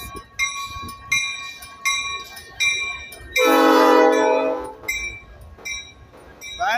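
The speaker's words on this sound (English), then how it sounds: "That's a slow train." A slow freight train with tanker cars rolls past, its horn sounding in a long blast over steady wheel clanks and crossing-bell dings, fairly close.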